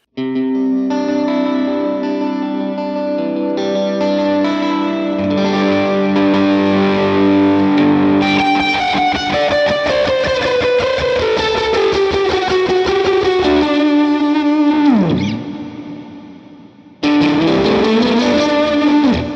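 Electric guitar through a Line 6 HX saturation effect, thick saturated distortion playing sustained chords and sliding notes, ringing loudly, with a brief drop-off before it returns.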